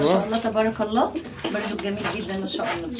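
Pigeons on a rooftop farm, including French meat-breed birds crossed with homing pigeons, give low murmuring coos beneath steady, close conversation between men.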